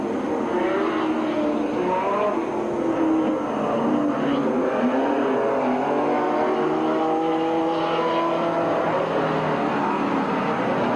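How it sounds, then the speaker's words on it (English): Race cars circle the Midvale Speedway oval at its 1985 fall classic, warming their tires with a continuous layered engine whine that rises and falls in overlapping sweeps as they pass at a distance, with no talk. "They're getting their tires hot."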